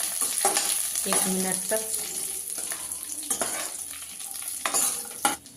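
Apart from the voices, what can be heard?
raisins frying in a pan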